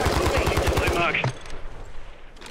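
Rapid automatic gunfire in Call of Duty Warzone, a loud, evenly spaced string of shots for about a second that stops abruptly and leaves quieter game ambience, with voices mixed in.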